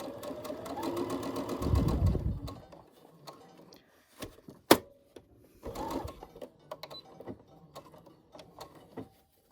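Sewing machine stitching a fabric face mask and backstitching at the end of the seam, with a loud steady whir for about two seconds, then quieter clicks and handling noises close by.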